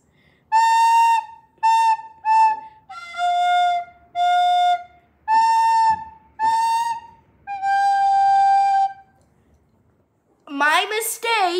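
Recorder playing the Cwb special melody as a run of short, clear high notes in small groups, a few held longer, with quiet gaps between phrases; a brief voice speaks at the end.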